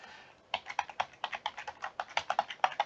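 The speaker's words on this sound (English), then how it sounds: "I'm going to type in the other column labels with their units" Someone typing column labels on a computer keyboard in an Excel spreadsheet, a quick, uneven run of crisp key clicks starting after a short pause, close and clear, with no talk.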